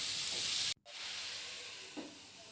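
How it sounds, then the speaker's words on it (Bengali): Pointed gourd (potol) frying in a pan gives a steady, bright sizzle with a brief cut partway through, then the hiss resumes evenly. "এদিকে পটলটাও ভাজা বসিয়ে দিয়েছি,"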